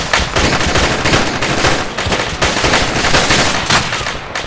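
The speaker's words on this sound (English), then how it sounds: "Taking fire. Taking fire, taking fire, taking fire." Dense, continuous gunfire in the military shooter Arma 3: rapid overlapping bursts of automatic weapons and single shots, loud and close, crackling without pause throughout.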